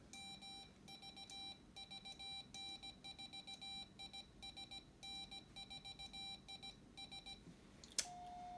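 Short tone beeps from a CW Morse key sidetone on a Langstone amateur radio setup, keyed in an irregular on-off rhythm of dits and dahs, clear and steady over faint background hiss, with a brief click near the end.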